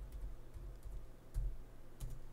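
A terminal command typed on a computer keyboard during a macOS install: a few soft, evenly spaced keystrokes close by, with a quiet room behind them and no speech.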